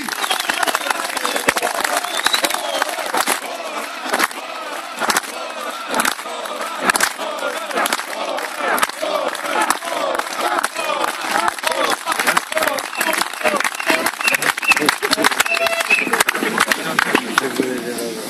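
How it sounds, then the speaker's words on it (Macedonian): A crowd at an anti-regime political rally in Kriva Palanka claps in sustained, dense applause with scattered cheers, while an amplified voice keeps speaking over it throughout. "за еден најголем, за еден огромен аплауз"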